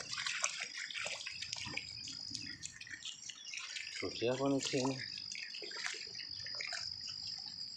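Floodwater from heavy rain in Laljhadi, Kanchanpur, Nepal trickles and drips quietly in the background while a person speaks over it.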